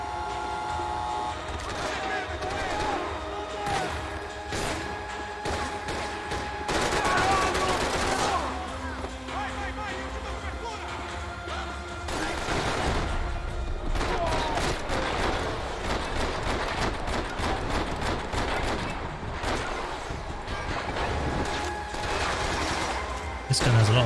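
Heavy-recoil gun in Max Payne 3 firing in dense bursts amid a loud, cluttered game soundscape of shots and impacts, steady and close throughout.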